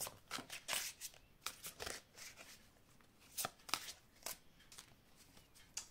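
Oracle cards from an angels-of-love deck are shuffled and drawn, making a run of soft, close riffling flicks and slaps in an irregular rhythm, quiet and with no one talking.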